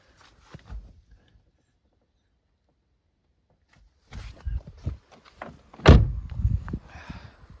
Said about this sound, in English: I love how the door closes on these.